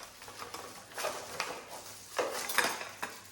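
A gold-finish butter knife from a flatware set is handled, giving several light metallic clinks and taps spaced irregularly, close and fairly quiet, with no talking.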